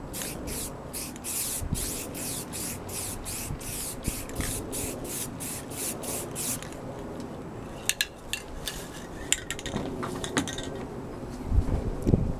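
Primer is sprayed onto a Yamaha RZ350 motorcycle tank in a rhythmic series of short, hissing bursts for several seconds, followed by quieter clinks and handling noises.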